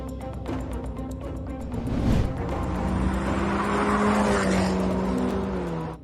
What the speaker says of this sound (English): Look at these cars, they're both going really fast.